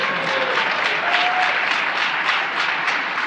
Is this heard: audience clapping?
yes